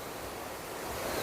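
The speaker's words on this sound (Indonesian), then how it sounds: "Ini aliran bawah jembatan. Air mengalir teratur." Steady broadband rush of river water flowing under a bridge at a water gate in Pucang Gading, constant and fairly loud, with a windy, washing texture and no voices.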